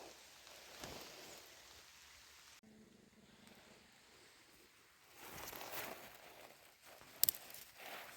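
Rain easing off outdoors on a wet autumn walk, a soft steady patter with a quieter lull in the middle before the drizzle swells again, plus a brief sharp click near the end.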